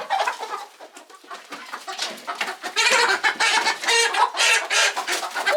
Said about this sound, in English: you're gonna be a really lucky chicken